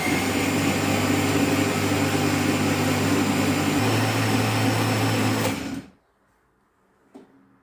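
An electric blender mixes mango cake batter in a loud, steady whir with a slight pitch shift midway, then cuts off abruptly, leaving near silence and a faint clink.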